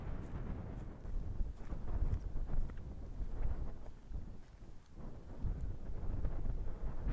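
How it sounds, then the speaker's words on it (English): Steady wind buffets the microphone with a continuous low roar that swells and dips, no other sounds standing out, on open moorland near Howden Edge in the Peak District. "It's windy again just here"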